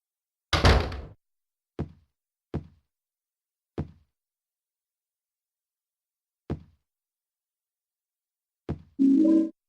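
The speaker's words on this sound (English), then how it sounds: "we're going to use the key we've just gotten to open the hotel door" A hotel door is unlocked and opened with a key in Silent Hill 2: a sharp opening clunk, then several spaced single knocks or thuds, ending in a short mechanical rattle and a brief tonal hum, with silence between the sounds.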